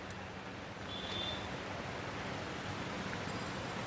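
Rain falls steadily outside near a parked 2013 Honda Amaze EX diesel, a soft even hiss of drops with no talking and no breaks.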